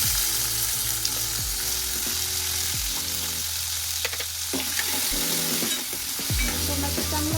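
Tomatoes hit hot oil with cumin and bay leaf for a green pea curry, giving a continuous close sizzle with stirring scrapes over a low humming drone.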